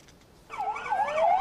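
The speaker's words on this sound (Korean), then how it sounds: "사이렌 소리에도 차량들은 꿈쩍도 안 합니다." A fire truck siren during an emergency response drill on a congested road in Gyeongbuk, Korea, cutting in abruptly and wailing in rising and falling sweeps, loud and near.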